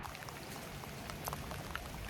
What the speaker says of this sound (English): Just relaxed in the pissing rain.